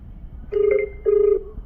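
A phone call on speaker gives two short electronic ringback tones with a brief gap between them, clear and close over quiet background.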